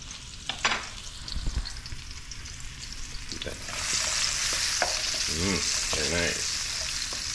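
Chopped onions hit a hot pan for a Filipino ginisang monggo and begin frying, the sizzle swelling to a steady loud hiss after a few seconds, with stirring scrapes and someone speaking briefly early on.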